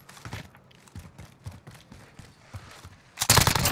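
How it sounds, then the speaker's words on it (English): On Call of Duty Warzone's Rebirth Island, a steady string of moderate single gunshots repeats at an even pace, ending in a louder, denser volley of close fire. "Taking direct fire."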